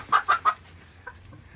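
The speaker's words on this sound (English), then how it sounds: "She's a partridge silkie" A partridge silkie hen gives three quick, close clucks in a row, followed by a fainter softer cluck, with no other voices.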